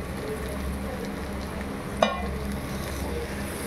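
Pork and fried potatoes sizzle steadily in a pan with continuous hiss and crackle, close up, and a single sharp clink of a utensil partway through.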